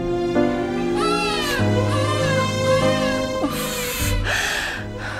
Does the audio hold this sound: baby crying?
yes